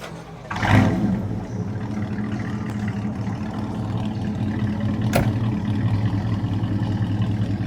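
A 1966 Chevy Chevelle with a 283 V8 idles with a deep, throaty rumble, then a quick rev swells the engine note before it settles back into a steady loud burble, close by, with no talking.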